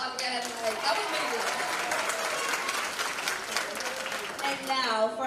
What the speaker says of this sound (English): Come on, give them a round of applause again.